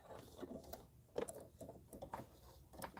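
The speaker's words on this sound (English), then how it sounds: "We're going to start stitching out the whatchamacallit, the ladybug." An embroidery machine stitches out a red ladybug design in hickory-coloured thread, a soft, steady mechanical whir with fast repeated needle clicks at close range and no talking.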